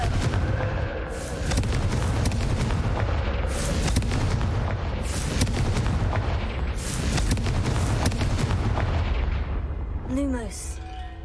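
Confringo spell explosions in Hogwarts Legacy go off as a series of loud booming blasts repeating every second or two over game ambience, with a voice heard briefly near the end.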